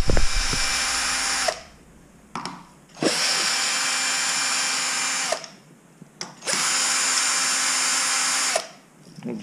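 A power tool unscrewing a handlebar bolt on a Beta Racing motorcycle whirs in three long, loud bursts of steady high motor whine separated by short pauses, close up.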